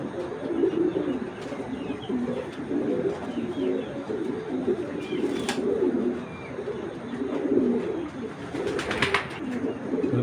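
High-flyer Giribaz pigeons coo continuously at close range, their soft throaty calls layering over one another, with a few faint chirps and light rustling mixed in.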